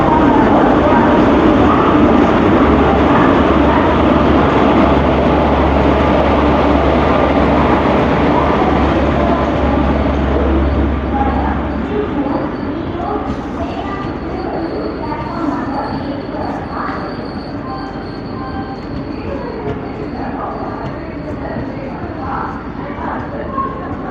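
Express train from Mangalore to Dr. MGR Chennai Central pulling into platform 1 at Podanur Junction, a loud steady rumble of rolling cars with a low engine drone that eases off after about twelve seconds, with people talking on the busy platform.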